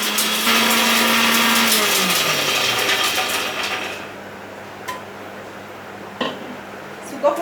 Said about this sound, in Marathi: इथे आता आपण शेंगदाण्याची भरड करून घेऊया।